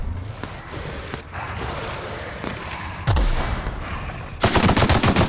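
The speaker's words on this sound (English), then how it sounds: "Let's see what this weapon does." Weapon fire in The Outer Worlds video game, a loud continuous rattle of rapid shots over a noisy battle backdrop, growing sharper and denser toward the end.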